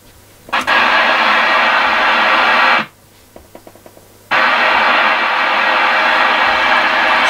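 Loud radio static hisses from a two-way radio through an external speaker at maximum volume, cuts off abruptly for a moment with a few soft clicks, then the harsh hiss returns.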